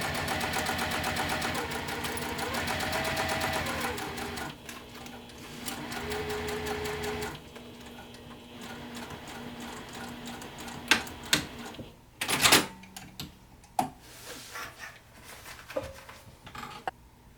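Sewing machine back stitching while a bag is sewn, running in steady bursts for the first several seconds, then falling to scattered clicks and handling noises with quiet pauses.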